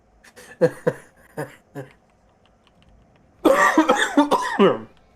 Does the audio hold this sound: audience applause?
no